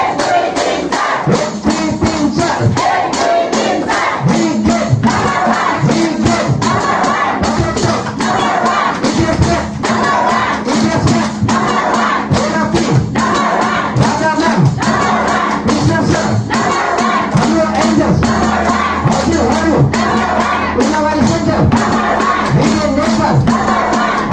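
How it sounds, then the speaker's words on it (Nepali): A large crowd at a stage event in Nepal claps and cheers loudly and continuously, with dense rapid clapping and whooping voices holding a constant, full level throughout. "ठुलो ताली उठाउने अलि जोडसँग"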